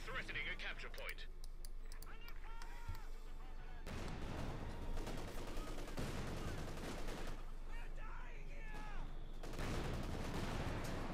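Machine gun fire and other gunfire rattle in a Company of Heroes 2 battle between Wehrmacht and British forces, dense bursts and shots running continuously under a commentator's steady talk.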